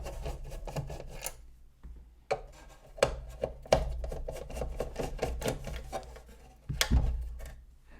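Phillips head screws being unscrewed from a giant cassette player: close scraping and rasping turns of a screwdriver with clicks and sharp knocks as parts are handled, in uneven bursts with no talking.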